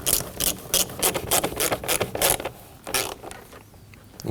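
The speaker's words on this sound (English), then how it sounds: "we can go ahead and tighten down the hose clamp" Ratchet wrench tightening a hose clamp on a Ford Edge during a battery replacement, a quick series of close clicking strokes that slow and fade toward the end.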